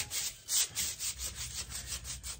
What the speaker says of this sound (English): First thing is we're going to sand this down somewhat.